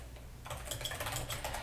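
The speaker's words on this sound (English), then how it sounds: "start typing our post" Rapid, fairly quiet clatter of fingers typing on a computer keyboard while writing a blog post, starting softly and then speeding into a steady run of keystrokes with no voices.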